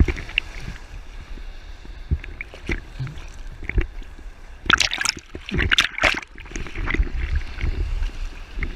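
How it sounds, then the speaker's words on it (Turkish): Waves slap and splash against a small rowboat heading out on open sea, with irregular watery sloshes and bumps that build to a louder burst of splashing midway, over wind and water noise. "Dalga geliyor."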